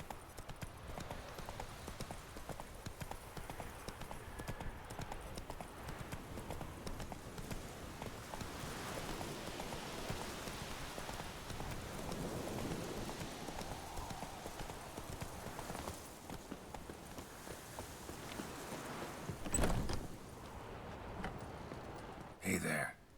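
Hooves of the horse Roach in The Witcher 3 clip-clopping steadily at close range for the whole stretch, with a game voice talking over parts of it.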